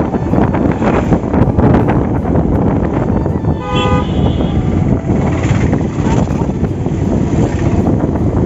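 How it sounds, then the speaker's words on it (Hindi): A short vehicle horn toot sounds once amid loud, wind-buffeted traffic noise in heavy city traffic, ridden through on a Pulsar 125 motorcycle. "लेकिन जब मैं हॉर्न दे रहा हूँ तो उनको भी तो थोड़ा सुनना चाहिए ना।"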